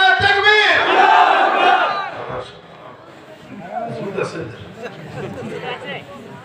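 A large gathered crowd at an Islamic sermon shouts a loud unified response to the Nara-e-Takbir call, a roaring burst that fades after a couple of seconds into scattered murmuring and chatter.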